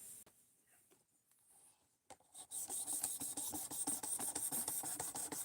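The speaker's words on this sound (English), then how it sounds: "we have been hogging off material and getting a new edge bevel set on this thing so we can start cutting again" A knife edge is ground against an abrasive to hog off steel and set a new bevel. After a quiet start, a continuous close, loud rasping scrape runs with steady rhythmic strokes.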